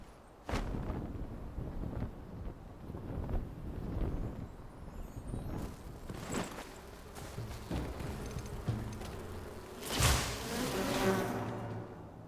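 Bees buzz around close to the microphone, a continuous droning hum with gusty bursts and a louder swell near the end, no talking.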